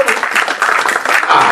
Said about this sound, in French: Tous vos applaudissements, s'il vous plaît. Ah, applaudissez.